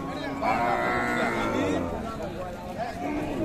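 Cattle moo loudly at a busy cattle market where cows and Shahiwal bull calves are for sale: one long, close low call rises over the general crowd noise while people talk.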